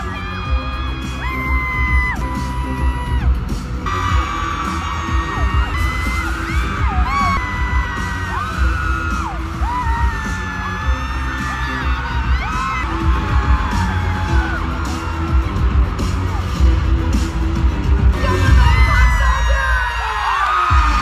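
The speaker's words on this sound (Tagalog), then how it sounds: "Tapos ito na nga ang hiyawan nung papasok na siya." A crowd of fans screams and cheers loudly and continuously as Korean actor Park Seo Joon enters an I AM Worldwide event in the Philippines, with whoops and yells swelling near the end.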